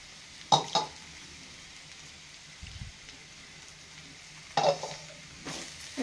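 Peanut powder being stirred into ivy gourd frying in a pan, with a few scraping spoon strokes over a low steady sizzle, close and moderately quiet.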